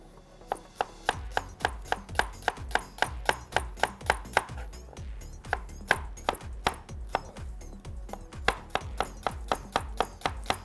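A knife cuts an onion into thin slices on a board, a steady run of crisp, evenly spaced chops close up with no voices.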